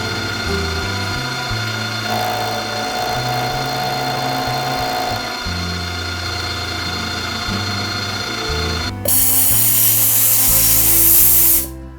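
An end mill on a milling machine cuts an engine part for a 150cc four-stroke at max RPM. A loud, steady, layered mechanical whine holds throughout, then turns harsher and brighter near the end before cutting off.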